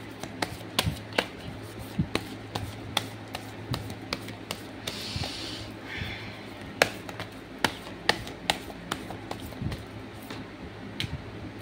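Oracle cards are shuffled and drawn from a deck as a run of crisp, close taps and flicks. One short riffle comes midway through, and there is no talk.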